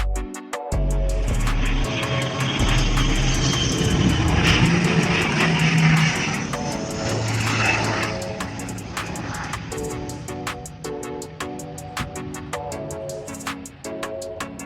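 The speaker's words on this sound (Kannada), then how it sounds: "ಸೊ ಒಂದು ಪ್ರಾಪರ್ ಫ್ಲೈಟ್ ಲ್ಯಾಂಡಿಂಗ್ ನೋಡುವಂಥ ಚಾನ್ಸ್ ಸಿಕ್ತು" An airplane landing at Hubli airport gives off a loud, broad jet roar that swells, holds for several seconds and then gradually fades, heard from nearby without talk.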